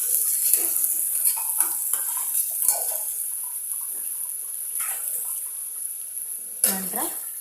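Vegetables frying in oil in a pan, a soft continuous sizzle with occasional stirring scrapes and utensil clinks, fairly quiet and close, with someone talking intermittently over it.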